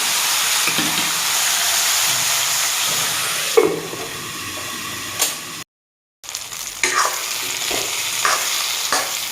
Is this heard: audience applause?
no